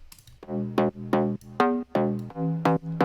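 A slap house bass patch built in Serum sounds on its own in a few loud, bouncy notes, each starting with a bright snap and sliding down in pitch, spaced unevenly in a syncopated groove.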